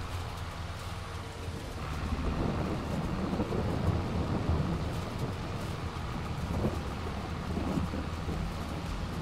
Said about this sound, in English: And then the weather just started to rain.